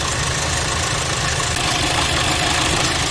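A Chevrolet Alpheon with misfire and catalyst fault codes idles roughly nearby, giving a continuous, uneven engine rumble with a faint knocking texture. The sound holds steady at moderate loudness with no voices.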